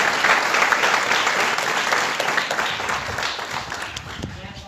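Dense, sustained applause from a large seminar audience at a school, honouring the principal, director and teachers, with steady clapping filling the whole stretch and a few voices underneath.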